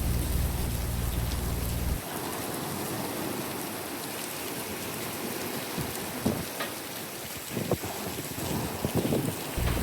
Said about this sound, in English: We didn't know it yet, but this was a monsoon.